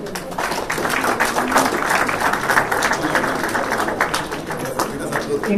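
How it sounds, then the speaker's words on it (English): At an inauguration event, an audience claps for performers in a moderately loud, uneven round of applause, with some crowd noise mixed in throughout. "Please, round of applause to them."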